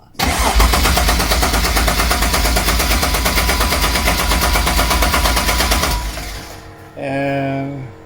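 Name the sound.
Toyota Supra mk3 engine starting and running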